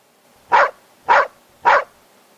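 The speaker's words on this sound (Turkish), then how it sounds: "Bakalım köpek nasıl ses çıkarıyormuş?" A dog barks three times, evenly spaced about half a second apart, sharp and close, with quiet between barks and no voices.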